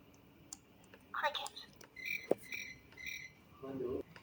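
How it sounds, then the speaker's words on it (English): Cricket chirping, as a sound effect in a children's farm-animal book, comes as three short, evenly spaced high chirps at moderate level over faint background noise and scattered clicks. "The cricket hops and chirps."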